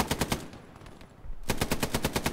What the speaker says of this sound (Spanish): Me disparan mucho, no sé desde dónde.